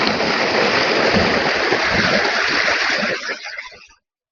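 Water gushes from a borewell pump outlet into an alfalfa field as a loud, steady broadband rush, then cuts off abruptly near the end.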